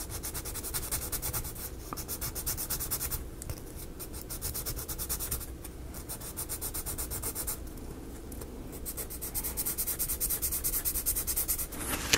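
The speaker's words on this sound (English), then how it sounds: "I'm going to sand me a bevel off that corner" Sandpaper sanding a bevel onto a corner of a miniature dollhouse, with continuous close scratchy rubbing strokes and brief pauses between passes.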